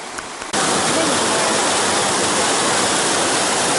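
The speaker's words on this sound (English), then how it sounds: "I think this is called Corbin or Corkin Creek Waterfall." Corbin or Corkin Creek waterfall along the Foothills Trail in the South Carolina–North Carolina foothills roars as a loud, steady broadband rush of falling water, starting abruptly after a brief quieter moment and continuing unbroken.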